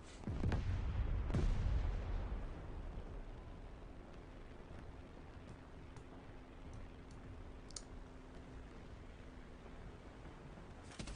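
In a flight combat video game, a plane's guns fire in a loud, rumbling burst for the first couple of seconds, then fade to a steady engine drone with scattered faint clicks.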